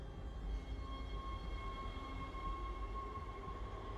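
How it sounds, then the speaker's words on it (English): Tram in the video game Dead Space rolls along with a deep, steady rumble and a faint sustained whine, moderately loud and continuous with no voices. "It is tram time."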